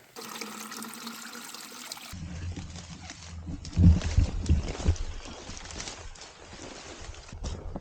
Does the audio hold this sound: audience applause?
no